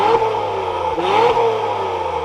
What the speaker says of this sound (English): But let's start this back up and we'll take a listen to that exhaust.